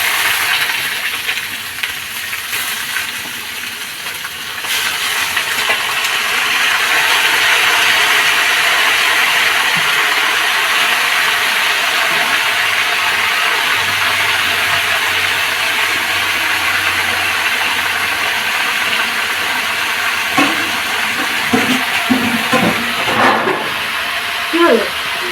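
Grated squash drops into hot oil in a pan for a Bengali squash ghonto, setting off a loud, steady sizzling hiss that swells after a few seconds and holds while someone talks over it.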